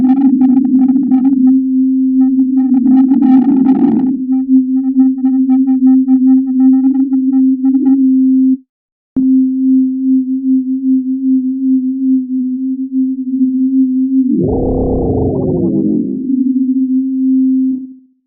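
Steady sine tone from the Vital synth with chorus effect examples applied, a pure held pitch that shifts from a shimmering, slightly wavering texture to a cleaner tone, then swells into a brief thicker sweep near the end.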